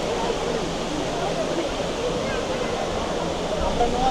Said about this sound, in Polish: Nawet w Dubaju wodospad mają